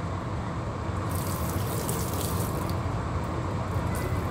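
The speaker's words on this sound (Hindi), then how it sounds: "इस तरीके से हम इनकी बॉडी पे पानी को डालेंगे।" Water pours steadily over kittens' bodies during a bath, a continuous close splashing gush with no talk over it.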